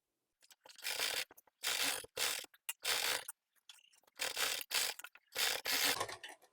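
A sewing machine stitching the hem of a salwar, running in several short bursts of rapid mechanical whirring separated by brief pauses, close and clear with no talking.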